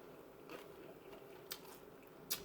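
Close, quiet biting and crunching of a crispy homemade taco shell, with a few sharp crunches standing out over soft chewing.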